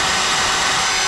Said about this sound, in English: I'm just going to drill right through this right here